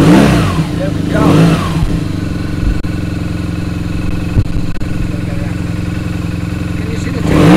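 A BMW R nineT motorcycle engine runs loud and close, with a steady idle, a rev near the start and a steady drone before another rise at the end, while a voice talks over it.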